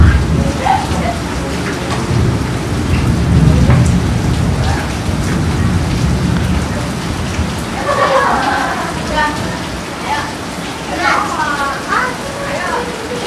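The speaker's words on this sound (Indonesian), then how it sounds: "Tuh lihat ya, hujan." Heavy rain pours down steadily and loudly in Tangerang, a dense constant hiss with voices talking faintly underneath.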